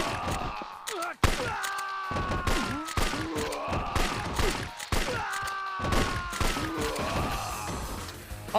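Repeated gunfire bursts from the video game Yakuza 3, sharp shots in quick clusters over busy game music and effects, with no talking.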